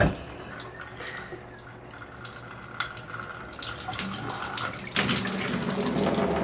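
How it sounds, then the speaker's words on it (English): Water runs steadily from a Delta Monitor shower faucet that has not been fully shut off, a continuous hiss with faint dripping, growing slightly louder near the end, with no talking. "Yeah, I can see water dripping out of here,"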